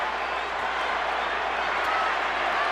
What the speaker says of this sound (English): The crowd have really got into this,